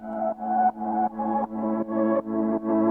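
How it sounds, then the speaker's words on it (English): Eight swelling tonal bursts, each rising in loudness before cutting off sharply: a reversed sample in a happy hardcore track, repeating in a steady rhythm. "And then I have this reverse sample that I got off Splice."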